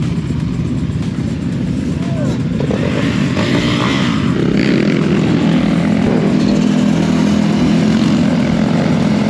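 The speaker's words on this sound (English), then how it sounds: "Oh, look at these motorcycles." A group of motorcycles riding past on a road, their engines droning and rising as they pass close by, heard over steady wind rush from a moving rider, with a voice talking over it.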